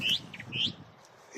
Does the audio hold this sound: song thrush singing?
yes